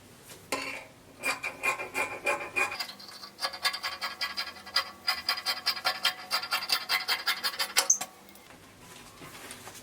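Scissors cut through fabric pieces for a dress in quick rhythmic bursts of crisp snipping and rasping, close up, pausing briefly between runs of strokes, with no talking.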